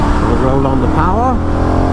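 A Benelli Leoncino Trail 800 motorcycle accelerates onto a dual carriageway, its engine note rising steadily in pitch, loud and close throughout, with a voice talking over it.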